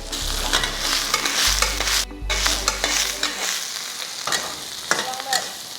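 Mustard greens (sawi) stir-fried in a pan until wilted, with steady close sizzling and repeated scraping stir strokes and a brief pause partway through.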